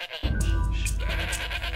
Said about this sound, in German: ihr habt nicht ernsthaft Ziegen mit in den Unterricht gebracht.